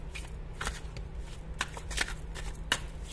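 A tarot card deck is shuffled up close, crisp riffling flutters and sharp card snaps repeating every half second or so over a faint steady hum, with no voices.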